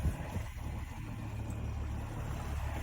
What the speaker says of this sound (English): So I'm motor sailing, which I hate